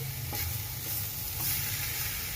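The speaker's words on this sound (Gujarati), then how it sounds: "આપણે ડુંગળીને લસણને બરાબર પકાવી દેવું ગેસ મીડિયમ રાખવાનો છે" Onion and garlic fry over a medium gas flame in a pan for green pav bhaji, giving a steady close sizzle with a few soft scraping stirs and no voices.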